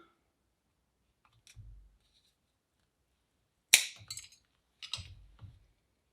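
A thin wooden skewer being cut down for lollipop sticks gives a few sharp snaps and clicks, one loud crack followed by lighter taps, close and isolated with quiet gaps.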